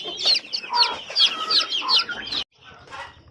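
Newly hatched chicks peep in quick, bright chirps, a busy cluster of close calls that breaks off abruptly, then a few fainter peeps follow.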